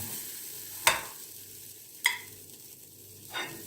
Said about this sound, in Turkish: Yumuşak seviyorsanız da domateslerinizi biraz daha kızartabilirsiniz.